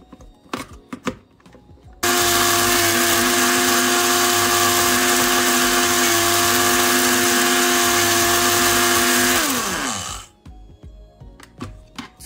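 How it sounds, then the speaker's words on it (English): Kitchen blender grinding dry rice into powder, a loud, steady whirring roar that runs unbroken for about eight seconds before winding down, with faint handling clicks before and after. "We are going to blend this rice to powder."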